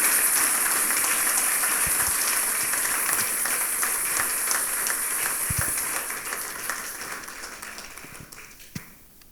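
Church congregation applauding together, a dense steady wash of many hands that holds evenly for most of the stretch, then thins and fades toward the end with a few scattered claps.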